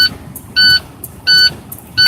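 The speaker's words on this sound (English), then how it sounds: "So that's a pretty massive air leak." Low air pressure alarm on a truck with a massive air brake leak: three loud, steady two-tone beeps, each about a quarter second, repeating roughly every 0.7 seconds over a low background hiss and rumble.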